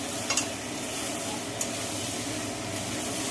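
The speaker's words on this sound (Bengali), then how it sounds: "ভাজা আলুটা দিয়ে আরেকটু কষে নেবো" Fried potatoes being stirred in oily spice paste for aloo kosha: a dense, loud, continuous sizzle fills the pan, broken by a couple of brief spatula scrapes near the start and middle.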